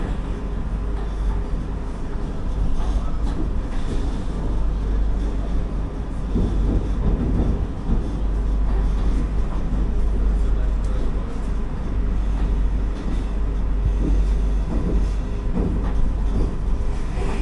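Steady low rumble and rolling clatter of the 20633 Kasaragod-Thiruvananthapuram Vande Bharat Express running, a continuous loud drone with faint voices in the background.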